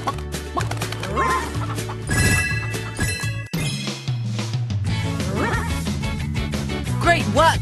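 Cartoonish chicken clucks and squawks over bright game music with chimes and jingles, loud and busy throughout, from a Paw Patrol video game.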